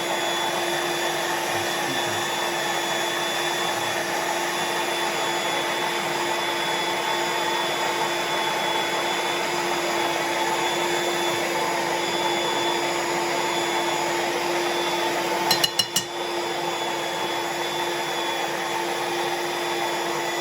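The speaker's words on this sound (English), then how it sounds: "In this particular mixer, your whole mixers might be a little different than this one." A stand mixer kneading pizza dough runs as a loud, steady motor whir for the whole stretch, with a brief clatter near the end.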